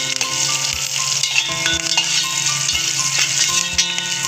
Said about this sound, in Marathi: थोडासा कांदा. आपण ते व्यवस्थित परतून घेऊया